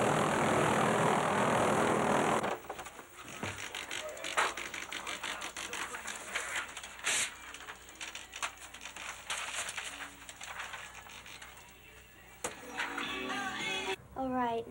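Helicopter 102 departing from Portland airport in 1985, rotor and engine noise building with rhythmic chopping, mid-distance, after a loud burst of wind at the start; a radio voice talks briefly near the end.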